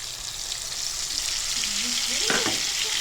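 Tomato and a water-mixed spice paste fry and are stirred in a pan for a Bengali pabda fish curry, giving a dense, continuous hiss with a brief spoon scrape near the end.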